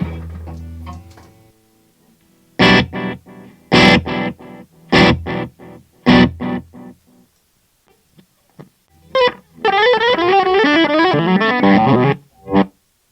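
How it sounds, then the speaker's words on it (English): Electric guitar played through a Walrus Audio Fundamental Series reverb pedal on its reverse setting: choppy, swelling chords with pauses between them, then a dense, warbling, distorted phrase that rises and falls before cutting off. "So that reverse setting can be kind of fun."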